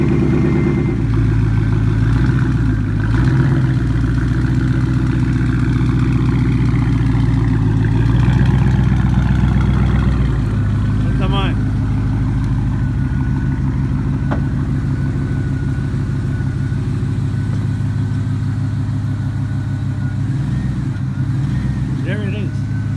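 A 1999 Mustang GT automatic drag car engine running close by: a loud, steady low rumble through the whole stretch, with voices speaking over it at times.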